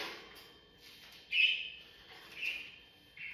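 Bright chirps from pet birds ring out indoors, a sharp burst near the middle followed by softer tweets, with quiet room tone between calls.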